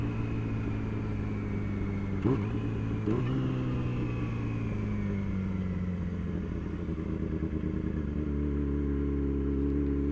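A Yamaha R6 sport motorcycle rumbles close by as it slows while pulling into a gas station, its engine note sinking steadily in pitch with a couple of brief blips and no talking.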